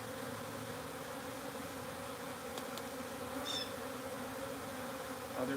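Honeybees drone steadily inside a backyard beehive, a continuous low buzzing hum close by, with a few faint higher insect whines passing over the constant drone.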